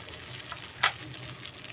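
Onion and garlic sauté with shrimp broth in a pan, giving a close, continuous sizzle and bubbling hiss, broken by one short, sharp spatter or utensil tap near the middle.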